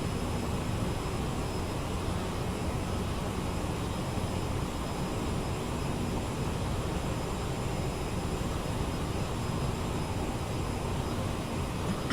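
Steady jet engine roar of a CRJ 900 airliner in Microsoft Flight Simulator, cruising on a Copenhagen to Trondheim route, a constant broadband drone with a faint high whine, even and unbroken throughout with no talk.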